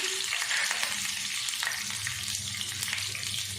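Green chillies and a little browned onion fry in hot oil, giving a steady, close, loud sizzle with faint crackles throughout and no voices.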